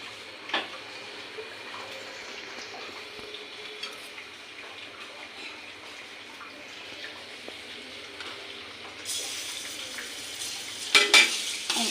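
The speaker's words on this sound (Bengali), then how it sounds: "এখন আমি পরিমাণ মতো তেল দিব রান্নার তেল পরিমাণ মতো তেল" Cooking oil is poured into a pot on a stove while potatoes for fish curry are in it, a quiet faint trickle and scrape with a brighter sizzling burst near the end, and no voices.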